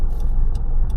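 A car pulls out of a driving test parking area in Tuncurry–Forster, its engine a steady low rumble up close, with a few faint higher clicks over the top.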